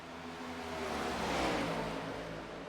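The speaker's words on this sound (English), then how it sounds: "I'm listening to these cars drive by." Race cars on an oval track go by as a faint, distant wash of engine noise that swells and then fades, with no voices present.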